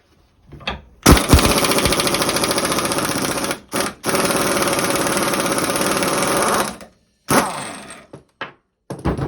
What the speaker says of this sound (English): You want to take a 27mm socket and an impact wrench set on reverse.